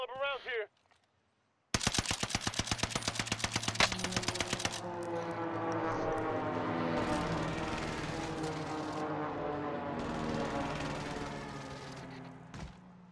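Rapid automatic gunfire from a video game shootout, a dense burst of close, loud shots in the first few seconds, followed by sustained rumbling battle noise with distant shots.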